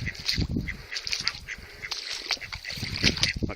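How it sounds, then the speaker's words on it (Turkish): Several ducks quack busily and overlapping nearby in snowy weather in Bursa, Turkey, a continuous chorus of nasal calls with slight splashing. "Ördeklerimizi de gösterelim size."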